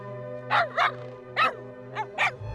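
Five sharp dog barks in quick irregular bursts, fairly close, over a steady low hum; no talking.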